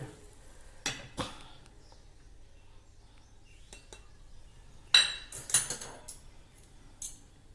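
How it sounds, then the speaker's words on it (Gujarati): A wooden rolling pin stirs ragi flour into boiling water in a pot, making quiet scraping and a few sharp clinks and knocks against the vessel, spaced irregularly with near-silent pauses between them. "જુઓ લોટ નાખી દીધો છે આ રીતે હવે એને હલાવી દઈએ વેલણથી"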